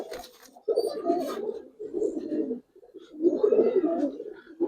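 A silver-coloured Giribaz pigeon coos in short, throaty bursts, close and fairly loud, with three or four repeated phrases separated by brief pauses.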